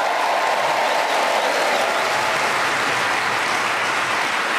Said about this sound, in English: extra spontaneous round of applause